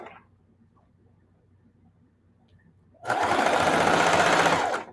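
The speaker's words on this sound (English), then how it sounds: "what I call a beginner level Singer heavy duty machine" After a few quiet seconds with faint background murmur, a beginner-level Singer heavy-duty sewing machine starts up and stitches in a steady, loud, continuous whir for almost two seconds.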